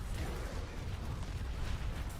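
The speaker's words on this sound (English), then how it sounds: "Mortar, yeah." Mortar explosions in Diablo IV, a dense low rumbling roar of blasts and crumbling debris, loud and sustained for a couple of seconds without talk.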